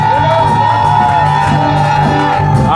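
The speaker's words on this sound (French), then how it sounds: "Est-ce que tu peux pousser des cris de joie?" A church congregation lets out sustained cries of joy during a worship service, a dense, loud crowd of shouts and whoops filling the room throughout.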